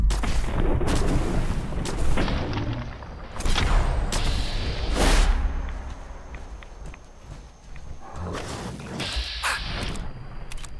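Gunfire rings out in Fallout 4 Far Harbor, several loud, sharp shots spaced irregularly across the scene, mixed with footsteps and ambient game noise.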